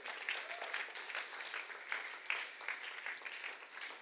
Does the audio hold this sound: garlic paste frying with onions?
no